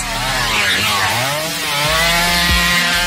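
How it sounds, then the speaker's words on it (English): A chainsaw in the Texas Chainsaw Massacre video game revs loud and close, a droning, buzzing engine that rises and falls over about three seconds. "Celebratory chainsaw dance."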